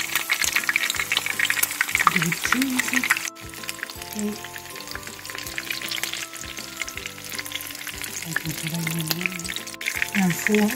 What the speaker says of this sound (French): il faut que ça grésille comme ça.